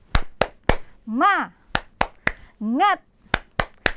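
Young preschool children in a classroom clap along to a rhythmic chant, sharp loud claps falling in groups of three between short sung syllables, repeated twice.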